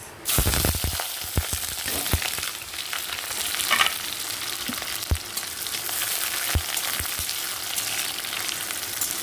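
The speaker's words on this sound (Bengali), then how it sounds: "এদিকে ফোড়নটা ভাজি হয়ে গেছে দিয়ে দেব পেঁয়াজ" Onions go into hot spiced oil with bay leaf and cardamom, frying with a steady close sizzle and occasional stirring knocks and scrapes, no voices.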